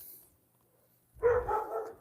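Dogs barking in a short burst after a quiet stretch, a few moderately loud barks close together near the end.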